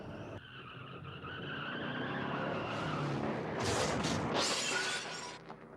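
A car hits a barrier in a crash test, with its front end crumpling: a dense, loud crunching impact and bursts of shattering, scraping metal and glass in a rush lasting several seconds.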